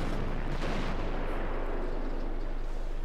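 A heavy, booming tank cannon shot in the game World of Tanks, with the blast's deep rumble dominating and decaying across a couple of seconds.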